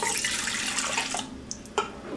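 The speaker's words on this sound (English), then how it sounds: "in the bowl, I'm going to put in 1 cup of warm milk" One cup of warm milk is poured into a bowl, making a liquid splashing stream that runs for over a second and then stops, leaving a few small drips and clinks.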